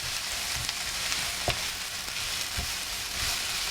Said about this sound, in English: I'm going to add the chili powder and stir it a bit